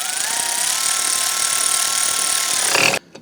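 A power tool whirs steadily while it tightens the rear brake caliper bolt on a 2009-2015 Honda Pilot, running loud and close for about three seconds before it cuts off abruptly.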